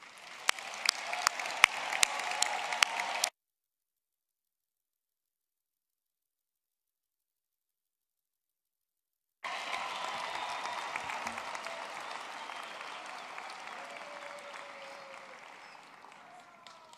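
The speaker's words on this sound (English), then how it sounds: "give a big round of applause to all our graduates" Audience applause for graduates at a University of Pretoria EMS and GIBS graduation ceremony: a dense, steady clapping from a large crowd that cuts out into silence and returns, slowly fading toward the end.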